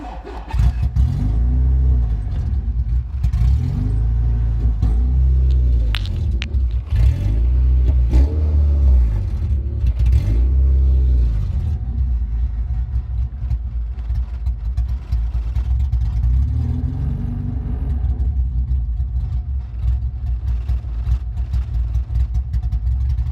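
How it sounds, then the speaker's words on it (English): A Honda Civic EK coupe with an H2B swap, running a P28 computer on an H22 base map, revs up several times in rising and falling surges over a rough, loud idle close by. "Now, watch how this one acts when I rev it."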